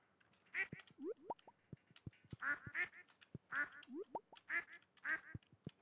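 Ducks quacking on a Stardew Valley farm, repeated rough quacks in short uneven bursts with little chirpy calls between them, fairly faint and without talk.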